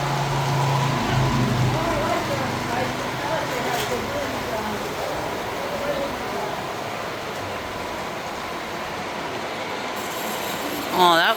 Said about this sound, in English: Isn't that kind of the train that you want?